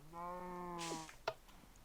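A cow in the Minecraft video game lets out one drawn-out lowing call that bends downward at the end, followed by a brief click, fairly soft and isolated.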